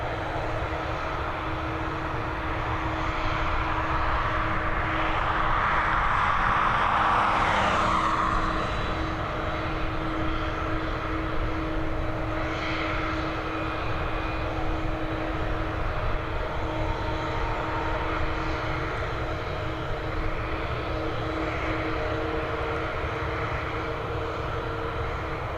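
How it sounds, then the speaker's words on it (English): A Ryanair jet comes in to land at Dublin Airport from Newquay, its engine roar swelling loud and close early on, then settling into a steady, sustained drone with a whining tone throughout. "Here we go, this Ryanair flight coming in from Newquay"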